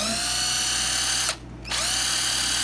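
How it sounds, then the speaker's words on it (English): AC Delco 8-volt cordless 3/8-inch impact wrench from a heavy-duty kit, running loud and close with a steady high motor whine, briefly dropping out for a moment before spinning back up. "came with a 3/8 impact wrench"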